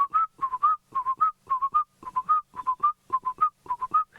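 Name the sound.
person whistling an imitation of black-collared barbet call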